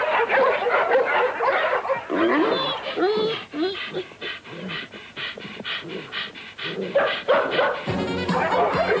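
Several cartoon dogs bark, yip and pant in rapid, overlapping bursts, lively and close, with a brief pause before the noise starts up again near the end.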